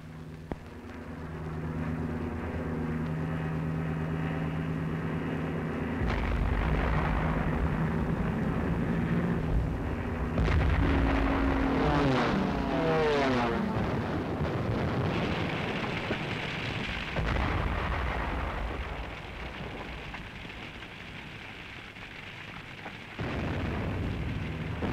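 Wartime bombing of Rotterdam: a continuous loud rumbling roar of aircraft and explosions, swelling and shifting with droning tones and heavy low bursts, no talking.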